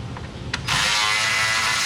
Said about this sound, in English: 10 mil quarter on electric ratchet.